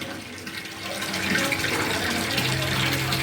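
Water running steadily from a tap, a continuous close splashing rush that grows slightly fuller as the flow goes on, heard on its own without speech.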